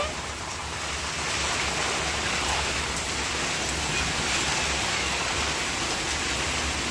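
Heavy rain pours steadily in a dense, continuous hiss with a low rumble beneath, sustained throughout with no distinct thunderclap standing out.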